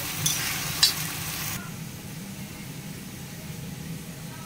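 Coriander and cumin spice masala fries for a chicken curry: a bright sizzle with a stir or two for the first second and a half, then it drops to a quieter, duller simmer.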